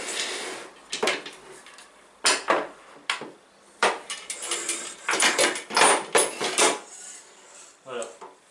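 Antique cavalry sabres, including an 1811 Blucher and a 1796 pattern, being handled and laid side by side, giving a series of sharp metallic clanks and scrapes in irregular bursts, close and fairly loud.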